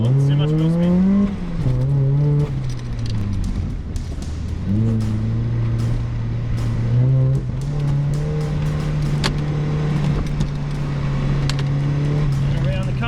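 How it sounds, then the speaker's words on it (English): A supercharged car spins its wheels on a skid pan during a timed run, its engine holding a loud, steady revving drone with pitch dips and climbs and some tire noise, close up, with a voice talking over it. "Oh, too much wheel spin."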